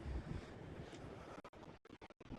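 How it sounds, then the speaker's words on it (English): Strong outdoor wind buffets a DJI Mic 2 wireless microphone, making a faint, low rumbling roar that cuts out in several brief dropouts near the end. "Very, very windy. Try to talk over the wind."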